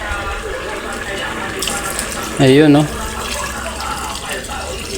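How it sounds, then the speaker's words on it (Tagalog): Water pours steadily into a pot of mung beans for Filipino monggo, a constant splashing rush throughout with a short spoken remark over it partway through. "ilalagyan natin na yan ng tubig"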